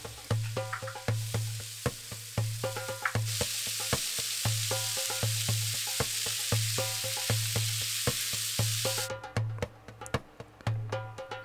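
Chopped onion and carrot stir-fried in butter with kabsa spice: a constant sizzle under a recurring low hum, with a steady run of rhythmic spatula clinks and scrapes throughout, close and without speech.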